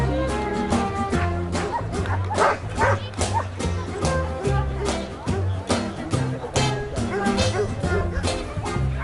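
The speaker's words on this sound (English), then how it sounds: "The show near Carcassonne is attended by over 100 top French dogs." Many dogs barking and yipping at a dog show near Carcassonne, a steady overlapping chorus of barks and whimpers throughout, with voices mixed into the din.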